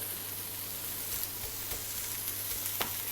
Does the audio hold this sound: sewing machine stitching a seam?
no